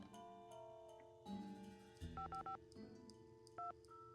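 A phone number is dialed in the Nancy Drew: The White Wolf of Icicle Creek video game: a string of short touch-tone beeps in an uneven rhythm over a faint background hum.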